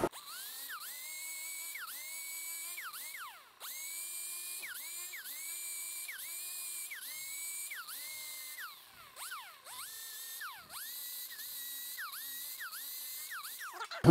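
Power grinder working on a steel body hammer in a metal shop, a steady high whine running in repeated passes with short breaks, each pass rising and dipping in pitch as the wheel loads against the steel.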